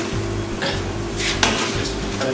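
Dish clattering and knocking as it is slid into a convection oven, a few close metallic clunks and scrapes over a steady background hum, one sharp knock standing out midway.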